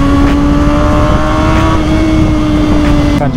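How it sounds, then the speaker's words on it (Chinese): A four-cylinder Kawasaki ZX-4R motorcycle engine holds a loud, close, sustained high-rpm drone with a slight dip and a brief rev change near the end. "今天都是四缸的，那个声浪都很爽"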